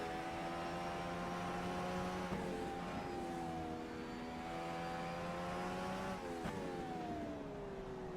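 Indycar engine in the racing sim rFactor 2 on the Mid-Ohio circuit, a steady high-revving drone with a gear change at about two seconds and another near six and a half, heard fairly quietly with no talking.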